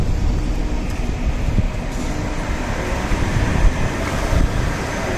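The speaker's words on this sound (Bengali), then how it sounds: "এখন আমি মেট্রো তুলবো" A Doha metro train at a station near Aziziya stadium gives a steady, broad rumble and hiss throughout, a continuous mid-level wash with no distinct events and no talk.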